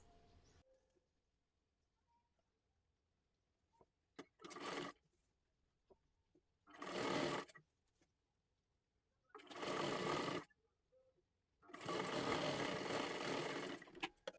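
Sewing machine running a stitch along the folded edge of a lehenga sleeve made from a kathpadar saree, in four separate bursts that grow longer, close and clear with quiet pauses between.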